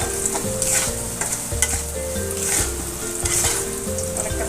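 Pumpkin pieces frying in hot oil for a Bengali pumpkin curry, a continuous close sizzle with rhythmic scrapes and clacks of a spatula stirring the pan, no voices.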